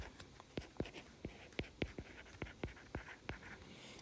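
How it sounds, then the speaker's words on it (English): Marker or pen strokes writing out interval notation on a board, a steady series of about a dozen short, sharp squeaky strokes in quick rhythm, close and alone with no talk. "let me go ahead and write this"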